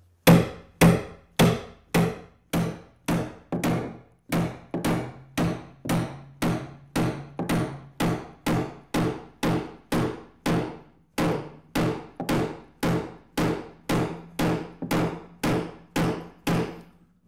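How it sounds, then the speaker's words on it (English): A 4-pound stone hammer drives a bronze rod into a hole in a wooden work skiff, giving about thirty sharp, evenly spaced blows, loud and close, with a brief pause partway through. "I've got a little 4-pound stone hammer right here that I'm going to bang it in with"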